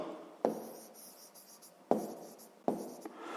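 A pen or pencil scratches on paper while numbers for a sixth-grade maths exercise are written by hand, close and quiet, with three sharp taps where the tip strikes the page between bursts of scratching.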